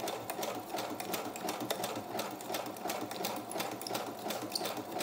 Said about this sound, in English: So I'll just do a little bit of stitching down the sides and the edges.